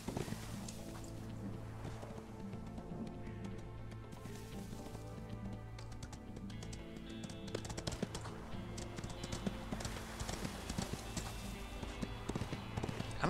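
Horse hooves clip-clop in the video game Ostwind, a quick repeating patter of light hoofbeats that builds and grows busier in the second half, over game background music with no talking.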